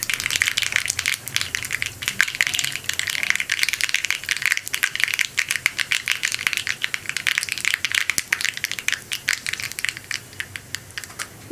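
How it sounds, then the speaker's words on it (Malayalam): One teaspoon of mustard seeds spluttering in hot coconut oil, a dense, continuous crackle of rapid sharp pops, close and fairly loud, with no talk. "കടുകൊന്ന് പൊട്ടി വരട്ടെ."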